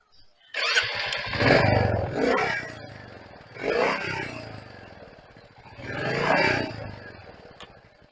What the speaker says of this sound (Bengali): এই বাইকের যে সাউন্ডটি আপনি পাবেন সেটি আপনার জন্য খুবই ভালো লাগবে আমি আপনাকে সাউন্ডটি শুনিয়ে দেখাচ্ছি